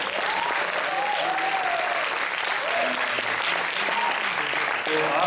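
Audience applauding at an indoor event, a dense, steady wash of clapping lasting several seconds, with scattered voices and cheers mixed in.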